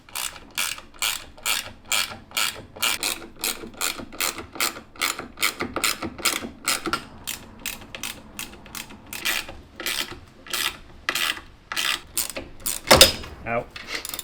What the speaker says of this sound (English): I'm gonna get on with bolting this vise in.